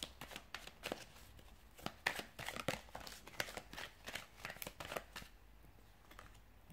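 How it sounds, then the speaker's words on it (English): A deck of tarot cards is shuffled in quick, uneven bursts of crisp riffling and slapping, close and fairly quiet, with no talking. "we'll give the cards a shuffle and see what they're predicting for you guys"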